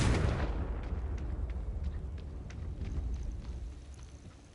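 The Confringo spell in a Hogwarts video game sets off a sharp explosion that rolls into a long rumbling decay with scattered crackling debris, moderately quiet and with no voices.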